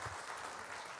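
A studio audience gives a round of applause during an on-stage conversation event; a dense, steady wash of clapping fills the short moment, loud and close, with no speech over it.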